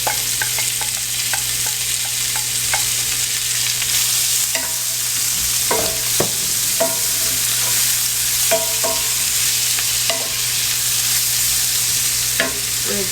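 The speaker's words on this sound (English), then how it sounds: "I've turned my heat down to low, and I'm just going to add in my onion" Chopped onion sizzling and frying in a hot pan over low heat, with a steady hiss and repeated close stirring and tossing clicks of a utensil throughout.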